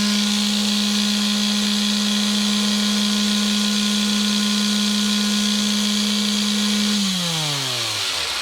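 An electric sander powered by an Anker Solix C1000 portable power station runs with a steady, loud motor hum alone for about seven seconds, then spins down with a falling pitch as it is switched off.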